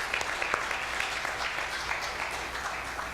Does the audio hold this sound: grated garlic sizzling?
no